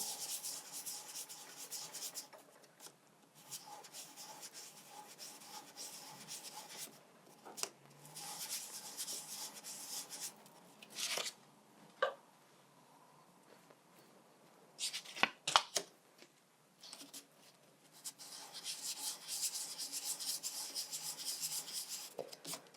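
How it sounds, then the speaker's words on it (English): Wax rubbed in figure-of-8 strokes over fine sandpaper gives a steady close gritty rasp that swells and fades across passes, with a few brief knocks midway and a louder stretch of scrubbing at the end. "I'm going to start with a 600 and I'm just going to, again, just rub on here, figure of 8 on both sides."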